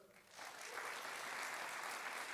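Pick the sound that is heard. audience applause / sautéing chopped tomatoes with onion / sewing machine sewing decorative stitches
audience applause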